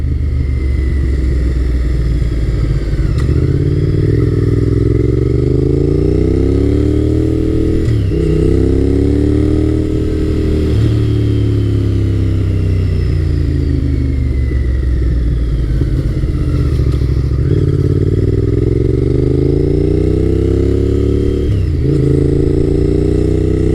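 A Honda VTR1000F SuperHawk V-twin motorcycle rumbles steadily while being ridden, its engine note rising and falling through several gear changes, loud and continuous with no talking.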